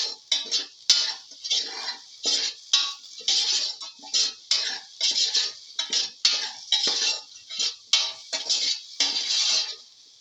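A metal spoon stirs and scrapes through a potato, egg and fenugreek leaf pilaf in a pan, with repeated rhythmic clinks and scrapes, close and fairly loud, no voices.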